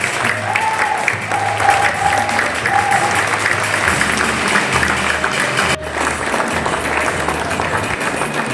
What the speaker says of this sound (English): One collective round of applause for our medalists here today.